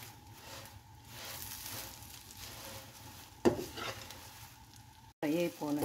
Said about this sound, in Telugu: ఫ్రై అయిపోవాలండి బటర్ లో